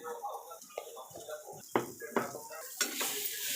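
Ivy gourds sizzle as they fry in a pan, with a spatula scraping and knocking against the metal in several sharp strokes.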